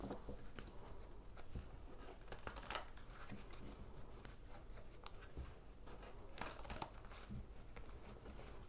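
Quiet shuffling of a tarot deck: soft riffling, patting and card slaps recur in short bursts against a faint background.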